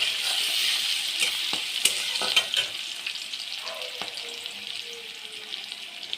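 Spiced eggplant and hilsa fish fry in a pan while a spoon stirs them, with a steady close sizzle and scattered scraping clinks against the pan.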